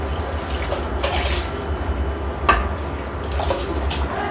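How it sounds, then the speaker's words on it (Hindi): About half a kilo of rice is poured into a pot of boiling water for biryani, giving a steady watery rush with a few splashy surges, close by and with no talking. "अब इसमें चावल डालते हैं।"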